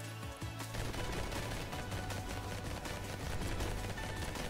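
Shotgun fire in the bullet-heaven shooter Vampire Hunters, a dense, loud stream of overlapping blasts and impacts that runs without pause for the whole stretch, with no one talking.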